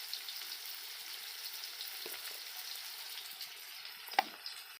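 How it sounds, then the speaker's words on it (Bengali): Onions sizzling in hot oil in a kadai, a steady hissing fry with a few soft clinks of stirring, close and fairly quiet, no talk. "পেঁয়াজগুলো কড়াতে দিয়ে দেবো, আমি লাল করে ভেজে নেব"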